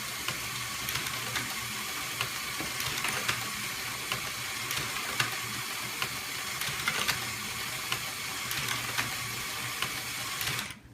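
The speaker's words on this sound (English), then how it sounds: "Let's power up the motor and just see how it functions." A small Lego motor drives a ball dumper mechanism, a steady plastic whirring and clicking of gears and ratchet running continuously, fairly quiet and close, stopping abruptly at the end.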